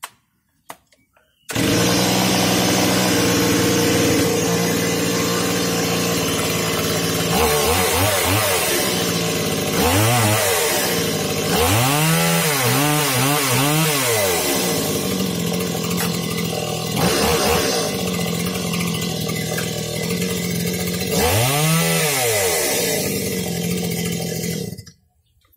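A Stihl 017 chainsaw fitted with a new bar and chain starts and runs loudly and close by, with several rising and falling throttle revs over a steady idle before it cuts off near the end.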